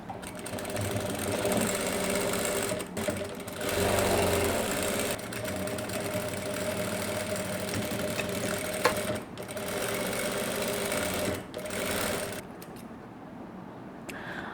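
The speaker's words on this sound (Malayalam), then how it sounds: "ഇനി നമുക്ക് ആ ടക്ക് സ്റ്റിച്ച് ചെയ്തെടുക്കാം" A domestic sewing machine stitches a back tuck on a saree blouse, running in steady continuous bursts with short pauses between seams.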